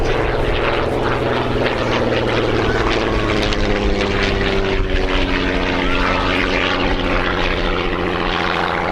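A vintage de Havilland propeller plane at a Shuttleworth air display drones loudly overhead, its engine note steady with a slowly shifting pitch as it passes.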